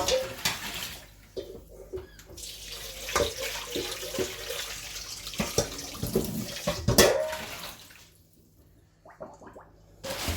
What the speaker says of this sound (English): so it just needs a quick rinse